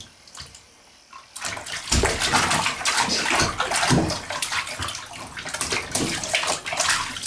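A nine-month-old baby splashing in bathwater during bath time, with continuous sloshing and slapping splashes that start abruptly and stay loud and close throughout, no talking over it.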